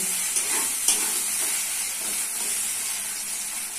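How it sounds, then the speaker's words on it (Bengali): Ginger garlic paste frying with chopped onions in a hot pan, a loud, steady sizzle and hiss with a couple of brief stirring knocks near the start. "লাল হয়ে গেছে, দিচ্ছি আদা রসুন বাটা। ভালো করে আদা রসুন বাটাটা ভাজবো।"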